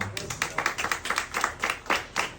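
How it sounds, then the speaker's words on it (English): A small crowd of passengers at a theme-park railroad show claps, a short, uneven burst of separate, distinct claps close by, with a voice briefly audible. "have a great big round of applause"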